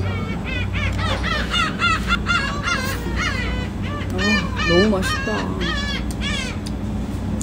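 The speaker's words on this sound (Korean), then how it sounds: "앞에서 갈매기들이 계속 울어대요" Seagulls crying repeatedly in front of a spring cherry-blossom campsite, a series of harsh, close, overlapping calls with brief chatter under them.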